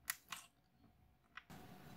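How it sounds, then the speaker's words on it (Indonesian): Laptop keyboard clips pressed back into place during a processor upgrade, a few sharp small plastic snaps and clicks, close and quiet, followed by a low hum. "Kita tekan pada bagian-bagian pengikat atau pengait keyboard."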